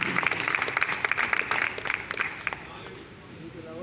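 A stage show audience bursts into loud, dense applause of many clapping hands, which gradually thins and fades toward the end.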